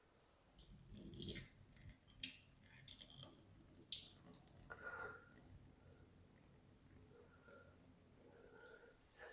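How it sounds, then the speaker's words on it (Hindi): Soaked urad dal being drained of its water in a kitchen, with splashing and trickling bursts and small clicks of the pot, moderately close, with a low hum beneath. "ये दाल के अंदर जितना भी पानी है ना ये हम सारा वेस्ट कर देंगे।"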